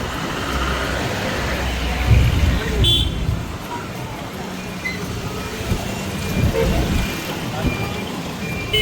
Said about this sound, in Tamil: இங்கே மீண்டும் டிராஃபிக்.